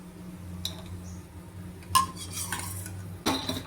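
Fried vadiyalu are lifted out of hot oil onto a plate, with a few metallic clinks and scrapes of a slotted spoon against the pan and plate over a low frying hiss, close and without talk.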